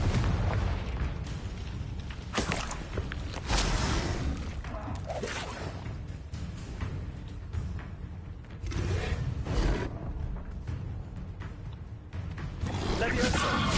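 Confringo blasting spells explode in Hogwarts Legacy, a run of loud booming bursts and whooshes in a dense game mix, with spoken spell names over the top.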